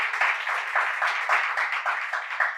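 An audience at a Gujarati book-introduction event claps warmly for two speakers. The applause is steady and fairly close, a dense rolling patter from many hands that holds throughout.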